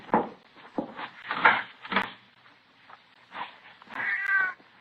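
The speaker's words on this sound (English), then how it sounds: "might be it's just a cat out in the streets now, in the side alley" Several plaintive cat meows spread across a few seconds as a radio drama sound effect, with a longer drawn-out cry at the end, fairly close and clear with no talking over them.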